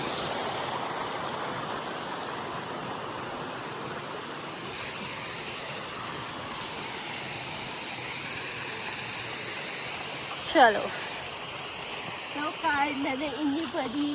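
A broad river in the Uttarakhand hills, crossed on foot near a temple, rushes with a steady wash of flowing water throughout. A voice speaks briefly over it, and footsteps or splashes come near the end.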